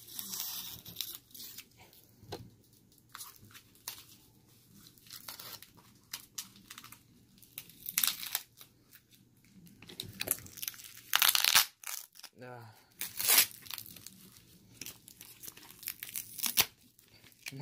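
Packing tape tearing and peeling off the box of a new iPhone 6S, with repeated close, crinkly rips and crackles in irregular bursts, some sharp and loud, between quieter handling noises.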